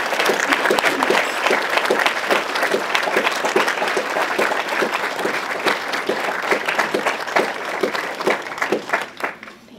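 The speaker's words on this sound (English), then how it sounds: "Please give a round of applause to my friend and honoree today." Audience at a breast cancer foundation fundraiser gives sustained applause for an award honoree, dense rhythmic clapping that stays loud and close before tapering off at the end.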